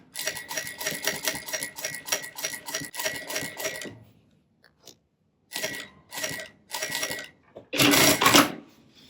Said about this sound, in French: Maintenant je vais piquer les deux pattes en suivant le trait.